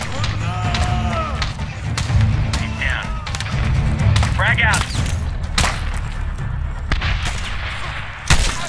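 A frag grenade goes off in the 2010 Medal of Honor game, a heavy boom lost among dense gunfire, thuds and battle noise. A sharp loud blast lands near the end, and voices sound faintly under the combat.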